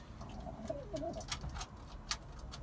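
Pigeon cooing in soft, low repeated phrases, heard close over a steady background murmur, with a few sharp clicks and rustles around it and no talking.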